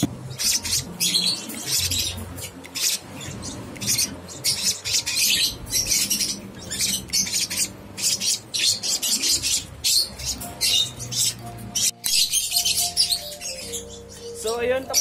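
Hand-fed baby bird chicks chirp and squeak continuously in rapid, overlapping high calls that stay close and loud, with faint movement and soft low sounds beneath.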